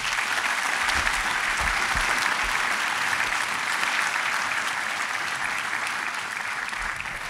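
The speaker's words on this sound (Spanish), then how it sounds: "Denle un aplauso al Señor, por favor." Church congregation applauding during a sermon, a dense, steady roar of many hands clapping that holds evenly throughout without speech over it.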